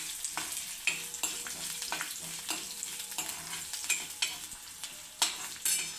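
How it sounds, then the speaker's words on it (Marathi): Garlic fries in a hot pan for a Marathi chutney, giving a steady, close sizzle broken by regular scraping stirs of a spatula. "आणि लगेच आपल्याला लसूण टाकून घ्यायचं आहे. हे थोडंसं असं भाजून घेऊ"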